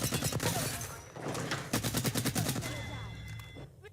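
Rapid gunfire in the video game Apex Legends: dense bursts of automatic shots, loud and continuous, with brief pauses between volleys and no talking.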